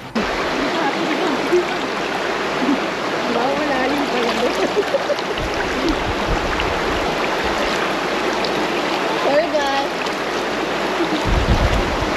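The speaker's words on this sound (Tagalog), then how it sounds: "Pakinggan natin yung lagaslas ng ilog." River water flowing over rocks at a riverside spot in Bagac, Bataan: a steady, rushing gurgle that stays fairly loud and continuous, with some faint background voices.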